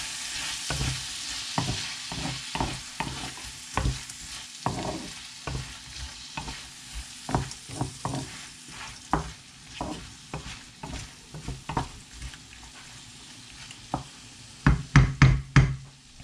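Garlic browning in a pan for garlic butter shrimp, stirred with a utensil: repeated scraping knocks against the pan over a steady sizzle, close up, ending in a quick burst of sharper taps, no talking.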